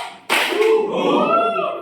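A classroom of students claps once in a sharp, loud burst, followed by a short stretch of children's voices.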